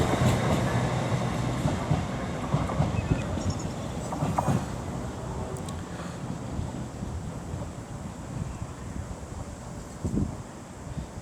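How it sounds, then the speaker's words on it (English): A Class 333 electric multiple unit rolls into Wakefield Westgate station on the East Coast Main Line while a Class 800 pulls away. The steady rail rumble and rolling noise carry on throughout, with wind buffeting the microphone. "And then also approaching to be our final train, 333010 on his return."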